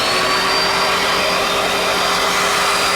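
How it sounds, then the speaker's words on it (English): An air compressor runs off power from a Ford Lightning electric pickup, giving a loud, continuous motor roar with a faint whine and no voices. "All right, now we got this compressor going."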